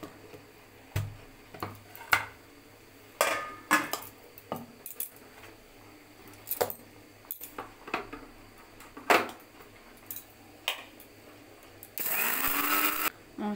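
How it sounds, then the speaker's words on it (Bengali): A mixer grinder grinds roasted spices for amla pickle in a home kitchen, a loud steady whirring burst at the end after scattered clinks and knocks of utensils nearby. "মশলাটা এবার গুঁড়ো করে নিই"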